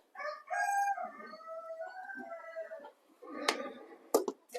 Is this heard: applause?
no